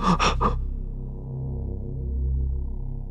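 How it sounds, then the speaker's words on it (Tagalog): A person gasps and pants heavily, out of breath after waking suddenly from sleep in a haunted house; a few sharp breaths open the clip, followed by a low sustained drone. "Hingal na hingal ako pagdilat ko"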